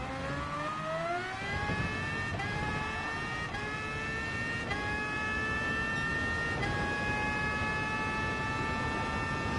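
A race car's engine climbs through the gears in GT Sport, a racing video game, its whining pitch rising and stepping down at each shift, loud and continuous.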